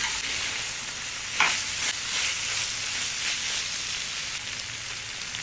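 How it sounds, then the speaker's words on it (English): Onions sizzle steadily in a hot pan with liver and spices for a stir fry, a close, even frying hiss with one brief stir or clatter. "Go ahead and add onions. Lower the heat and fry for 3 minutes."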